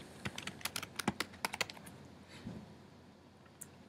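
Rapid clicking keystrokes on a computer keyboard while entering citation details, a quick run of about ten close, crisp taps followed by a few sparse, quieter presses, with no talking.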